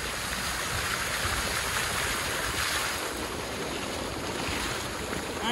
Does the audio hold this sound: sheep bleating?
no